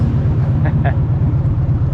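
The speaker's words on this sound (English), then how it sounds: "I feel like it's idling a little high right now." A 1993 Harley-Davidson FXR motorcycle idling slightly high at a stoplight, its loud, close, steady rumbling pulse filling the whole stretch with little change.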